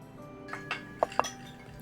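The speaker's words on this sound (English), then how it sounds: "opened some drawers, taking out a frying pan and a bowl." Pans and bowls clink as kitchen drawers are opened in a visual novel game, a few short separate clinks with light faint rattling between them.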